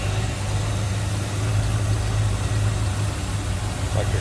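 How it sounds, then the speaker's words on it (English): A 351 Windsor V8 with an Edelbrock carburetor in a 1947 Mercury Eight coupe street rod idles steadily with a deep, even rumble, close by and continuous throughout. "Nice smooth running engine."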